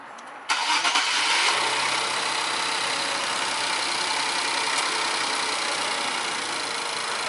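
An Infiniti Q50s fitted with new intakes and a JB4 tune cranks and fires up after a brief moment of quiet, then settles into a loud, steady idle close by.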